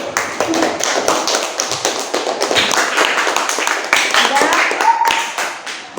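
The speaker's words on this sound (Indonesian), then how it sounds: "Oke, kasih aplaus dulu untuk kelompok kinestetik." A classroom of students applauds a group presenting on paying zakat fitrah at school; dense, steady clapping from many hands runs loud and close throughout, with voices mixed in.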